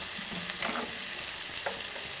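Hilsa fish bones going into a gently simmering pan, heard as a faint sizzle with a couple of soft scraping, stirring movements.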